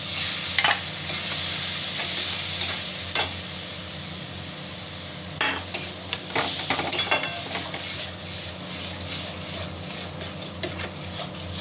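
Koli saag greens frying in a pan with rice flour and ginger paste, a steady close sizzle with intermittent stirring scrapes and clicks throughout, no voices.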